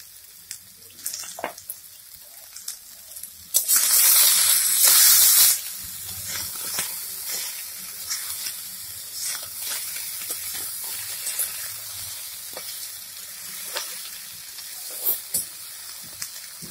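Radish, eggplant, potato and flat beans fry in a pan with salt, mostly as a quiet crackle broken by a loud two-second hiss of steam and scattered small pops and clicks.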